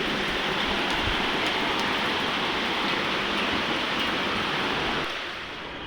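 Steady, dense rain pours down as a continuous broadband hiss, easing slightly toward the end; no voices.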